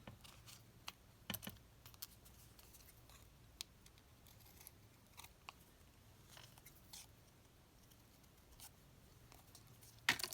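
Scissors snip quietly around paper being trimmed for crafting ephemera, faint irregular close-up cuts and rustles in an otherwise quiet room.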